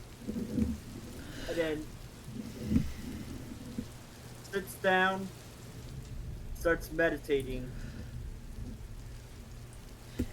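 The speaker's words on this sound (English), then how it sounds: "the thunder and lightning grows louder and louder and louder as the rain grows heavier and heavier and heavier" A thunderstorm with heavy rain: a steady wash of rain with low rumbling under a voice talking, which dominates the foreground.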